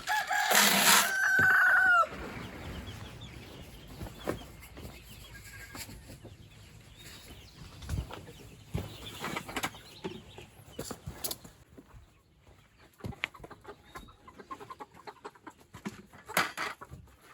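Backyard hens and a rooster around a coop: a loud rooster crow opens, then scattered clucks and soft scratching at close range, with no talk.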